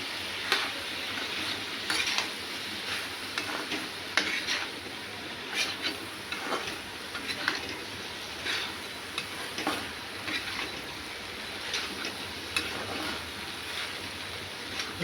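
Soybeans and potatoes are stirred in a curry pan, giving a low, continuous sizzle with regular scraping strokes of a spoon every second or so.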